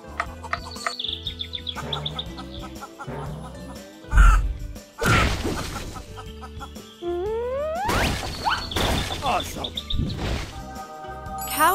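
Cartoon hens building a house cluck and chirp in bursts over busy animated music and sound effects, with swooping tones and a few louder noisy hits interrupting the chatter.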